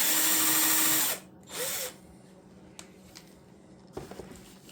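A power drill boring holes into the wood of a homemade pizza press, two loud close bursts of whirring followed by quieter knocks and handling clatter.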